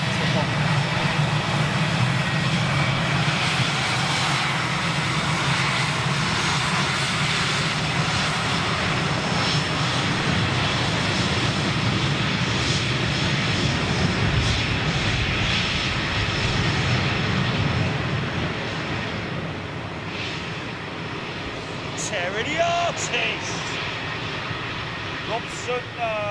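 A Cathay Pacific jet airliner takes off with a loud, sustained engine roar that stays strong and broad throughout, easing slightly toward the end.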